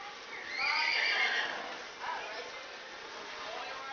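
A horse at the 2011 Hillsdale county fair lets out a clear, drawn-out whinny close by, followed by quieter shuffling.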